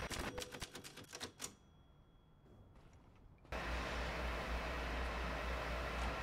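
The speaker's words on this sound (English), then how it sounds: "Use typewriters to save your progress." In the horror game Resident Evil Village, typewriter keys clatter in a quick run of sharp clicks, then a pause of near silence, then a steady low hum of room tone.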